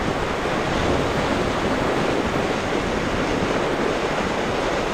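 Strong wind buffets the microphone alongside the roar of sea waves breaking on a beach less than ten meters away, a constant loud broadband rush with no pauses and no voices.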